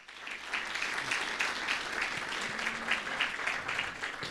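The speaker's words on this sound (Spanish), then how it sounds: "Más, por favor, fuertes aplausos." Congregation clapping during a Sunday church service in Aymara, a steady mass of applause with soft rhythmic pulses, moderately distant and fairly quiet throughout.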